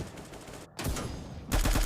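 Sniper gunshots in a shooting video game, Bullet Angel, with a Scar-Idol rifle: a short gap, then sharp loud blasts and a dense burst of crackling fire close by, with no talk.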